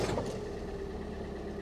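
The engine of a Peugeot 3008 cranks and catches just after a battery change, then settles into a steady idle rumble close by.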